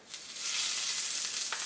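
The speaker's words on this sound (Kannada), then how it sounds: "ಇದನ್ನು ಆಫ್ ಮಾಡಿಬಿಟ್ಟು ಒಗ್ಗರಣೆನ ಚಟ್ನಿಗೆ ಹಾಕಿದ್ರೆ" Hot mustard-seed tempering with broken chili and curry leaves poured into zucchini chutney, a loud sudden sizzle that rises quickly and holds steady with faint crackles, no voices.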